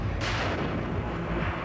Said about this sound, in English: The mock-up explosion shown to the jury